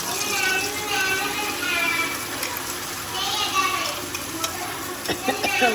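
A tempering of desi ghee sizzles steadily and fairly loudly, with a few crackles and clinks. Voices, including a child's, talk over it.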